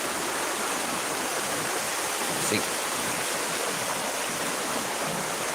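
Steady broadband rush of the Belawan River flowing on the outskirts of Medan, continuous and even from start to finish, with a brief faint voice buried in it.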